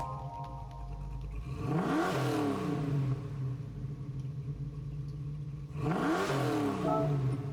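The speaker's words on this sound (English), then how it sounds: "So I'll click on this car, we'll listen to the startup sound" A 1969 Ford Mustang Boss 429 in Gran Turismo 7 cranks and fires, then revs twice with rising-and-falling roars, settling into a deep rumbling idle between the blips.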